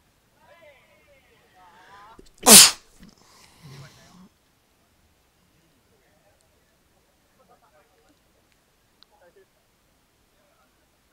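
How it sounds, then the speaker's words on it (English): A single sharp sneeze bursts out loud and close, surrounded by faint murmuring speech and near silence afterward. "Sorry about that sneeze."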